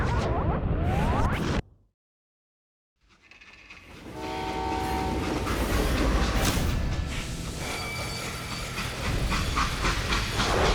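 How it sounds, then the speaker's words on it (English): A freight train in the game Call of Juarez Gunslinger rumbles loudly with hissing steam, cut by a brief silence before the heavy rolling noise builds back up and runs on with metallic tonal whine. "They hopped a freight train"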